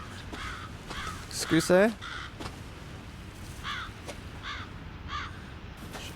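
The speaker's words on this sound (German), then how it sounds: "Irgendwo Kreien." Crows caw several times in the game Resident Evil 7, the harsh calls spaced out, one louder burst near the middle and the rest fainter and more distant, with a short spoken word among them.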